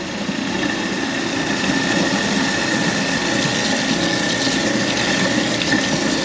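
A kitchen garbage disposal runs with water pouring into the sink, a constant motor hum under a steady rush of water with no pauses.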